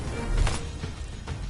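An object smashed in the video game Blades of Fire, a loud crunching crash with a heavy low thud, followed by a couple of smaller breaking knocks trailing off.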